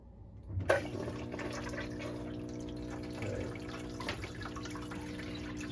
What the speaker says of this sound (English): Let's get the pump turned on.